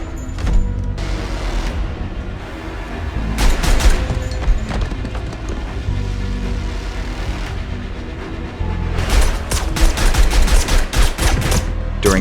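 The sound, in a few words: gunshots in a film scene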